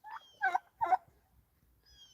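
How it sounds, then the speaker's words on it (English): Two loud, bursting turkey gobbles in quick succession, close by, followed by a faint high bird call and quiet background. "And she's got some turkeys."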